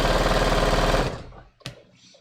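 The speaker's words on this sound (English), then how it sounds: "Oops, I'm sewing on this the wrong way." A sewing machine runs steadily for about a second while stitching a t-shirt quilt, a dense mechanical whir that stops abruptly, followed by a sharp click and a few faint handling noises.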